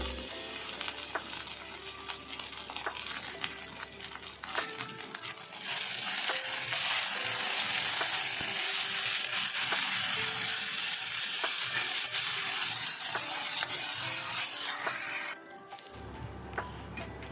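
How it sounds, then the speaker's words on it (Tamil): Drumstick (moringa) leaves sauté with turmeric and salt in a hot pan with a steady, loud sizzle and occasional scraping stirs, and the crackle eases off near the end. "கொஞ்சமாக மஞ்சத்தூளும் உப்பும் சேர்த்துட்டு நல்லா வதக்கி விட்டுக்கலாம்"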